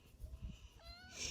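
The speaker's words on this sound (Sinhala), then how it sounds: "පාලගෙද පූසා?" A cat gives a short, faint meow, a brief rising cry near the end over low background noise.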